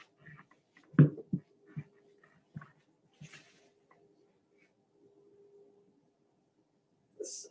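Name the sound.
dog moving around and whimpering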